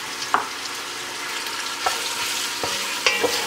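Garlic and oregano frying in a pan, a continuous close sizzle with occasional sharp clicks and scrapes of stirring.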